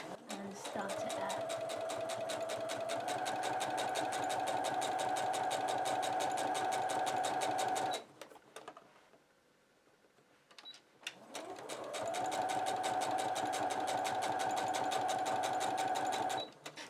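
Sewing machine stitching fabric bunting flags onto bias binding, a loud rapid close mechanical whirr that runs steadily, stops for a few seconds, then starts up again.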